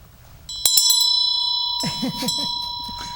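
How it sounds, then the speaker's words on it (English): A Tibetan ritual bell, paired with a dorje, rings with one clear struck tone followed by a few quick strikes. Its bright harmonic ring sustains as a low voice begins talking over it. "That's a bell, and there's a dorje that goes with it."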